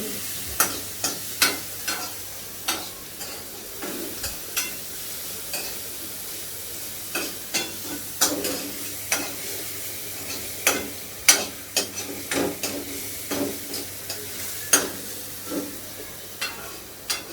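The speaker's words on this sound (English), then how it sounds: "So here we will mix this on high flame." Chinese bhel being stir-fried on high flame, a soft continuous sizzle broken by frequent sharp scraping and clinking strokes of a spatula against the pan, irregular and close, with no talking.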